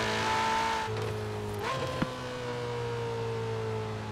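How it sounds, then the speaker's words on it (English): Ferrari 488 Pista engine in Forza Horizon 4 holding a steady drone, then a quick shift around the middle with a brief tire chirp, settling back into a smooth, even tone. "the general tone of this engine is really, really good"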